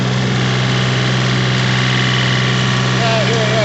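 A snowblower engine runs steadily while clearing about a foot of light, fluffy snow, a loud continuous drone with no break throughout.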